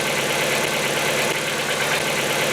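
A cold Hyundai engine running with a rapid, regular ticking knock from hydraulic lifters riding over the steady idle, loud and close, with no voices.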